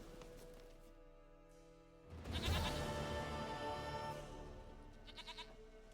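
A goat bleats in The Witcher 3, a wavering cry that rises abruptly midway and holds for about two seconds over quiet game ambience, followed by a fainter bleat near the end.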